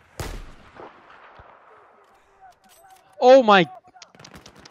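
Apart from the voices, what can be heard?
gunfire from the video game Battlefield 4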